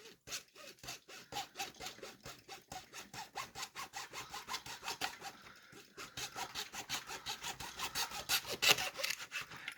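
Fine-toothed hand saw cutting a plastic model part held in a clamped cutting jig, close and steady, with rapid rhythmic back-and-forth rasping strokes running almost continuously, a brief pause midway, then resuming slightly louder.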